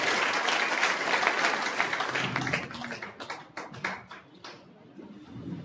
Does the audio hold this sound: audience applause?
yes